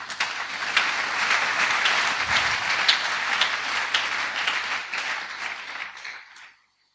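A church congregation bursts into loud, sustained applause and clapping that holds steady for several seconds before cutting off abruptly.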